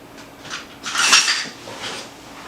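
A metal scoop clinks and scrapes against a prepared muffin tin while mini blueberry muffin batter is portioned, a few close, bright clattering taps over about two seconds.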